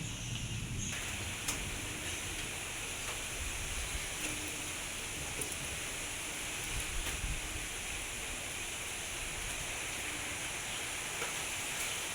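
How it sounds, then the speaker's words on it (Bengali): Light drizzle falls with a steady breeze outdoors, making an even, soft hiss that runs unbroken for the whole stretch, with occasional faint ticks and no voices. "দেখো হাওয়া হচ্ছে, মেঘ ঝিলকাচ্ছে, আর এই হচ্ছে বৃষ্টি পড়ছে।"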